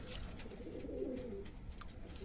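A pigeon of an old breed gives a single soft, low coo midway through, faint against quiet room noise.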